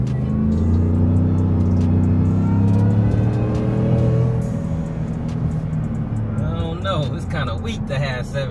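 A Ford F150 Shelby Super Snake pickup truck rated around 775 horsepower accelerates hard, its loud engine note climbing in pitch for several seconds before easing off into a lower rumble.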